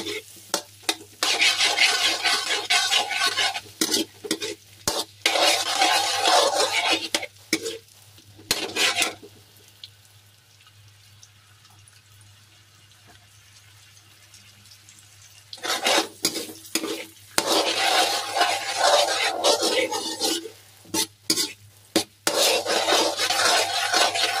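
Chopped onion sizzling in melting butter in a pan while shrimp and crab are prepared, with bursts of loud frying and scraping stirring, a quieter gap midway, then more vigorous sizzle and stirring.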